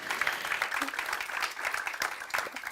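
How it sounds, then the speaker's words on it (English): An audience at a climate-change conference applauds the speakers with steady, moderately loud clapping that continues evenly throughout, a faint murmur of the crowd beneath. "please join me in applauding the speakers for sharing their time and expertise with us"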